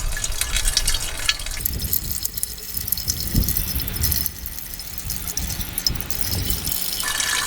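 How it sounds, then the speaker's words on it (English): Pure water pours steadily into the cooling system of a Procharged Scat Pack car, a continuous gurgling splash with faint rattles, close by and uninterrupted. "So we're just gonna add this water in."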